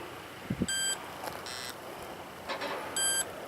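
An Amzdeal Smart Hunter metal detector gives three short electronic beeps spaced about a second apart, faint against quiet outdoor background noise, with a soft thump near the start.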